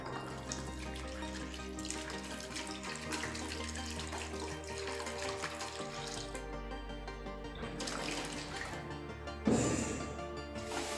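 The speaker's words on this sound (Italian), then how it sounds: "Si mette l'acqua" Water poured into a container for mixing drywall filler, a faint continuous running and splashing with a brief louder gurgle near the end, quiet and close.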